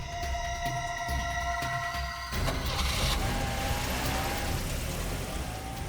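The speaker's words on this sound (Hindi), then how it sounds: "गाड़ी तो निकल गई सर।" A car pulls away, its engine rising into a broad rushing roar after a short steady idle, then fading into traffic noise.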